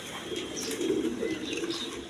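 A pair of Kasha Gola pigeons coo steadily in low, rolling murmurs, a continuous soft burbling at moderate distance with a faint background hiss and no talking.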